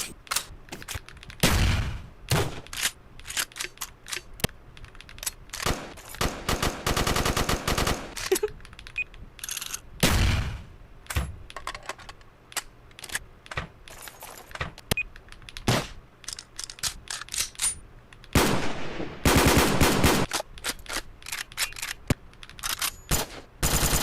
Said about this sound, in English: Oh, the FAMAS. Such a unique sound.